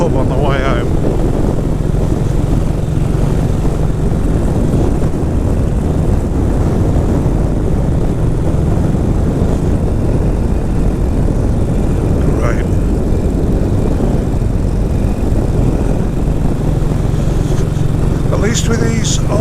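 A 1959 BSA motorcycle rides along old country roads between farms in late November, its engine droning continuously under heavy wind rush, steady and loud, with speech mixed in at times.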